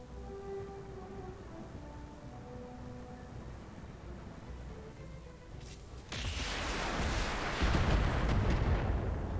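Heavy weapon impacts in the RogueTech mech video game, a low rumbling scene that erupts into a loud, sustained roaring blast about two-thirds through, with no talk.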